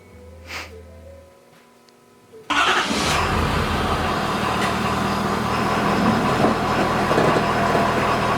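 A 7.3 diesel truck engine cranks briefly and catches, then settles into a loud, steady, rumbling idle close by after a quieter stretch.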